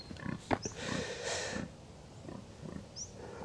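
Pigs on a farm, where a cow is stuck with a bucket on her head, give scattered close grunts and snorts amid rustling movement.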